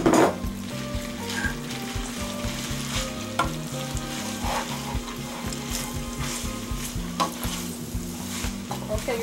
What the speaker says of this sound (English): now you put your spaghetti. You make sure you mix it